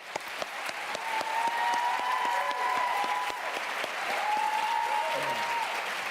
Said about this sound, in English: I think this is one time when we ought to just give them both a real round of applause.